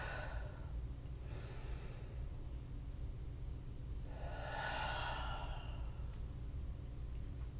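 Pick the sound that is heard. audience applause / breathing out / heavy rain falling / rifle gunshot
breathing out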